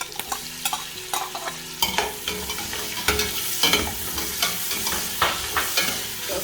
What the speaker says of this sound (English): Now what we are going to do is to add in our sausage.